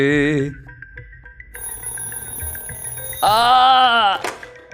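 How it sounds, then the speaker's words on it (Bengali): A telephone rings in a house with a repeating, thin electronic tone pattern, set between bursts of a loud voice talking nearby. "ফোনটা বাজছে তো। ফোনটা বাজছে।"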